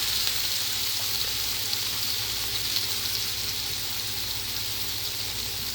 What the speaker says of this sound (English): We're going to give those a quick saute.